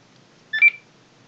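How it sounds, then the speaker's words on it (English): An ICOM 2730A radio gives one short, clear electronic beep while cloning to a computer, heard alone against a quiet background. "Radio gives an audible beep"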